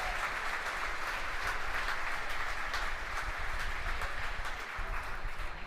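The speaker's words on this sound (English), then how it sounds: "You hear the applause from the team gathered around Mission Control Center here in Hawthorne." A team gathered in a mission control center in Hawthorne during a rocket launch applauds steadily, a continuous wash of clapping at moderate distance lasting throughout.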